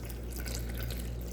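Water runs steadily into batter for chechebsa, an Ethiopian flatbread dish, making a faint continuous trickling with no voices.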